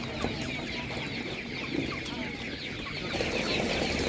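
Chickens at an outdoor animal market cluck and chatter in a continuous flock, several birds close by, with overlapping short calls over steady background bustle.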